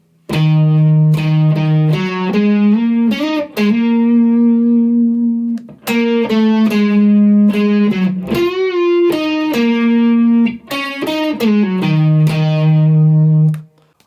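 Slow distorted electric guitar solo: sustained, heavily overdriven notes with slides between them, loud and alone, with brief pauses between phrases.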